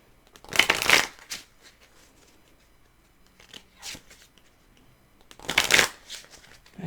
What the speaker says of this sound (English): am I not going to be able to shuffle that way?